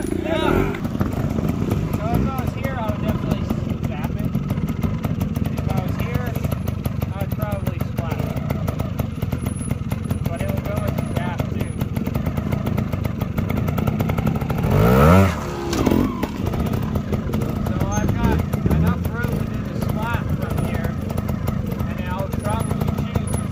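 Trials motorcycle engine at a training centre, idling and revving in repeated bursts during zap attempts, close and loud with a sharp surge midway, while a person talks over it.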